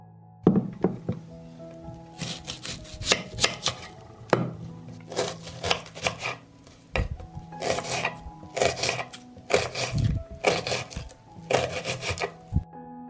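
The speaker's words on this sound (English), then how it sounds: "I will cut an onion." A knife chops an onion on a wooden board in a kitchen, giving a run of quick, irregular close thunks in bursts, with faint steady tones in the background.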